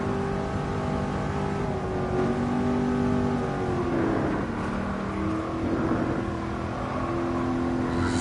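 A Mercedes-AMG Black Series engine holds at the rev limiter, flat out up a hill on the Nürburgring. It makes a steady, sustained droning roar with strong engine harmonics throughout, heard from inside the car.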